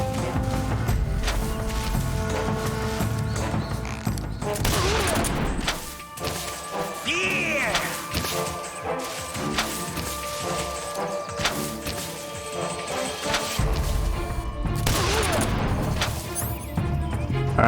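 Shotgun blasts in Metal Gear Solid 3 fired in loud, scattered bursts amid crashing impacts and dense game music, with a short lull midway before more heavy hits.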